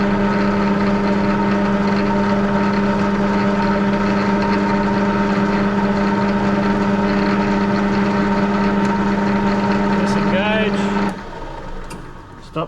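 A wood lathe turns a spindle with a steady, loud motor hum and drone that runs unbroken, then winds down near the end as the machine is stopped.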